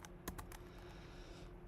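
Typing on a computer keyboard while coding, a quick cluster of sharp key clicks near the start followed by a few scattered taps, close and fairly quiet over a steady room hiss.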